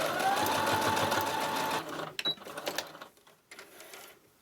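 A sewing machine stitches pleats on a reusable fabric face mask, running steadily for about two seconds, then stopping, followed by a few short clicks and quiet handling noises.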